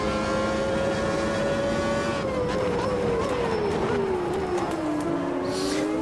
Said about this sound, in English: V12 ahead, sounds lovely.